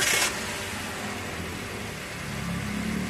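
Toyota Avanza engine cranks with a brief loud burst, then settles into a steady, moderately loud idle that continues alone with a slight rise near the end.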